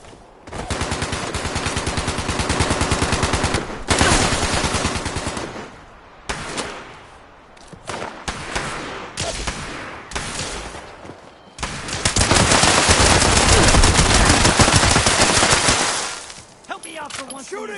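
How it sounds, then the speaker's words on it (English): Gunfire in Fallout 76 comes as long loud bursts of automatic fire with short pauses between them, ending in a final heavy sustained volley. "Shooting! I'm shooting!"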